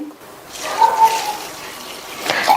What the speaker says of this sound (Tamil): தண்ணி சேர்த்து 2-3 தடவை நல்லா வாஷ் பண்ணிட்டு